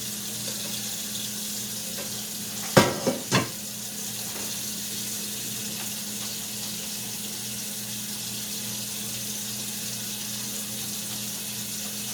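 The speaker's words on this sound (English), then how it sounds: "I'm getting ready to drain these noodles." Spaghetti noodles and their water pour out into a kitchen sink, making a steady rushing splash, with a few sharp knocks from the pot near the start and no one speaking.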